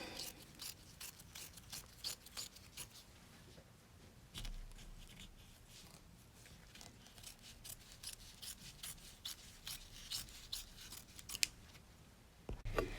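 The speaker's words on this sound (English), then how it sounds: "I'm going to go around, trim it." Scissors trim batting and fabric around an in-the-hoop quilted flap purse, giving a steady run of close, crisp snips and rubbing cuts, quiet and continuous, with no voice.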